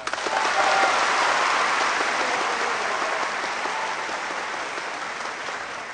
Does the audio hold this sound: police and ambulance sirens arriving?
no